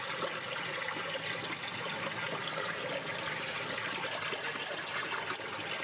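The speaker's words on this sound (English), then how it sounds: "the water in this pool is boiling like a raging tea kettle" A pool of water boils violently like a kettle in the point-and-click game Unavowed, a dense, constant bubbling and gushing roar with no pauses and no talk.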